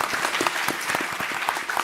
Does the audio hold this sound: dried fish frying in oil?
no